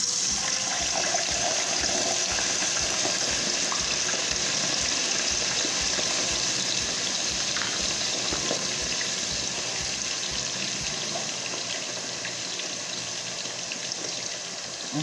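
Short ribs sizzle and crackle steadily in hot frying grease, a dense, continuous hiss of bubbling fat that holds close and loud throughout with no voices.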